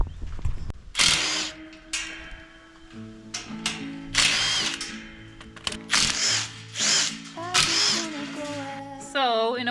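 Ratchet wrench working bolts off the hinges of an old horsebox: several loud, close bursts of rapid ratcheting clicks and metallic clatter, interspersed with talking.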